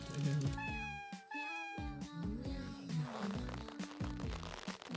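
A mother cat with her kitten meows repeatedly, with rising and falling calls close by, some overlapping and stretched into longer wails, with no talking.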